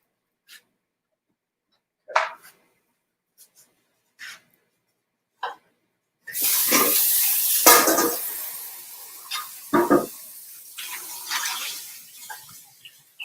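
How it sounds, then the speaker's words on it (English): A small kitchen blender being washed: a few scattered clinks and taps, then running water splashes steadily with knocks of the container, fairly close. "I'm cleaning my little blender here."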